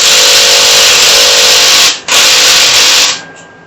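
Power tool whirring loudly at close range, tightening a nut on a rolling laptop tray, running steadily with a brief dip near the middle and winding down at the end.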